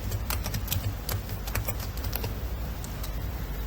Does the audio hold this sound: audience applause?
no